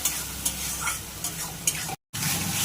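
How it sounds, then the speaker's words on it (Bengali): Spice paste with turmeric and salt is stirred and fried in a pan, a soft steady sizzle broken by periodic scraping strokes of the spoon, close and moderately quiet, cutting out briefly near the end. "এই মশলাটাকে ভালো করে কষে নেব যতক্ষণ না তেল ছাড়ে ততক্ষণ আমি মশলাটাকে ভালো করে কষে নেব"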